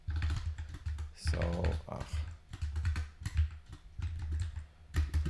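Keystrokes from a computer keyboard clatter steadily while someone types code for a NixOS module, mixed with a short spoken word and a low background hum.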